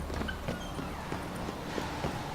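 Horse hooves clip-clop at a steady walking rhythm in the video game Witcher 3, the regular thuds sitting over a constant ambient background.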